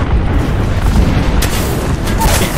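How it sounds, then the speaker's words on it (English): Airstrike explosions go off in the video game Apex Legends with loud, deep rumbling booms that roll on continuously, and sharper blasts punch through partway. "Calling the airstrike."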